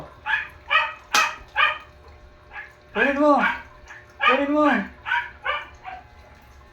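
A pet dog barks in short repeated bursts, close by, while a person calls out to it during a game of fetch training.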